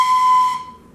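Someone blows on the side of an open cylindrical tube, producing one brief, bright whistle-like note with a breathy edge. It is close and loud and lasts about half a second before it dies away.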